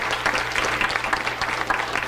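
A room full of people at a scholarship honor reception applauds, a continuous crowd clapping with slight rhythmic surges, fairly loud and close, no voices over it.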